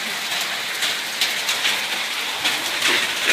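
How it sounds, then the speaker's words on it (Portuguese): Hail falling steadily on surfaces in Cordeirópolis, São Paulo, a dense patter of small ice pellets with no talk. "Chuvinha de gelo."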